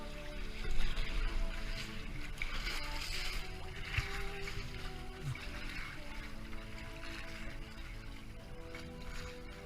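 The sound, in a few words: tugboats passing near kayaks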